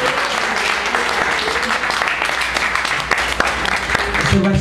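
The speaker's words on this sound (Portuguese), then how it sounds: "Você pode aplaudir o Senhor" A church congregation applauds steadily throughout, dense clapping filling the room at even loudness with a few voices mixed in under it.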